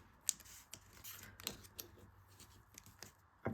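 Crisp paper creases and rustles come in short, uneven bursts as a sheet is folded into a Sceptor origami fighter jet, close and quiet, with sharper snaps near the start and end.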